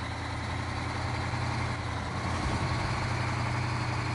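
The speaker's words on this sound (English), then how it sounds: "Sounds like a good truck engine." A heavy truck engine in the video game Snowrunner idles steadily with a low, constant rumble and faint mechanical hum, unbroken throughout.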